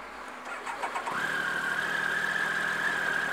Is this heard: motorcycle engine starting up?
yes